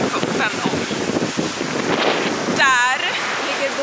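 Strong, gusty wind buffets the microphone on an island beach, a steady roar mixed with surf, and a brief whistling tone rises through it near the end.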